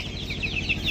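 Desi chickens cluck softly at close range, a steady run of short, warbling calls over a low background hum, without speech.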